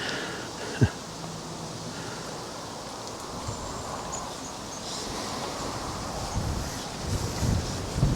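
Gusts of wind buffet the microphone outdoors beside a fishing lagoon during a match, a soft steady rush with faint rustling and a brief knock near the start.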